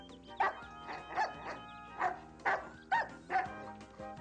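Cartoon puppy barking, a series of about eight short yapping barks in an irregular rhythm, close and clear, with no talking over them.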